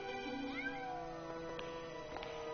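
Cat meowing in the video game Grim Fandango Remastered, several drawn-out meows with sliding pitch over a steady game-music bed, moderately loud and close.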